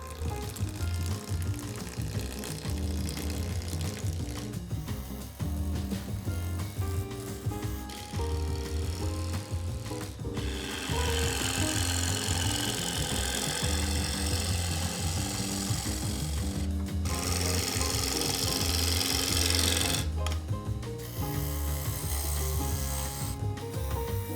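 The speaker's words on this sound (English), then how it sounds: "I'm just going to use the Thompson tool, 19 mil bowl gouge." Wood turning on a lathe with a Thompson 19 mm bowl gouge makes a continuous close rasping and scraping, with louder, brighter cutting passes in the middle and end and brief pauses between them; there is no talking.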